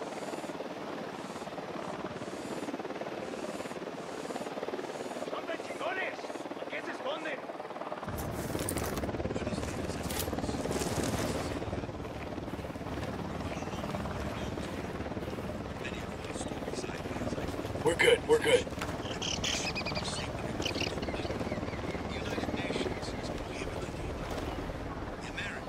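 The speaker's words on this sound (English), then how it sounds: "Helicopter inbound." Helicopter flying in Ghost Recon Wildlands, a loud steady rotor drone that holds throughout, with brief rattling bursts and scattered game effects.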